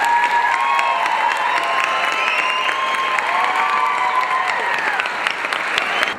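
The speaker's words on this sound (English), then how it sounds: "Let's give one more round of applause to the graduating class." A large crowd at a university nursing pinning ceremony applauds the graduating nursing class in a dense, steady roar of clapping, with cheers and whistles throughout.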